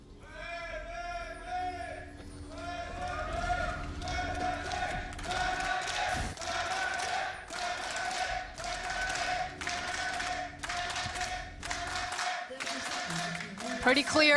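An esports arena crowd at an LEC 2019 Spring Split match cheers for Fnatic against Vitality with loud, rhythmic claps and chants pulsing for over ten seconds, while a caster talks over the noise.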